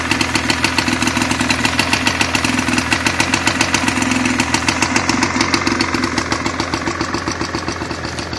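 A Johnson 48 outboard motor on an Eldocraft boat idles in neutral, making a loud, close, steady rapid chugging with an even, unbroken rhythm.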